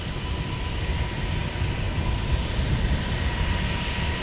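An Alaska Airlines Boeing 737 MAX 9 jet lands in San Diego, producing a steady, broad roar of engine noise that holds level throughout, heard from a distance outdoors with no talking.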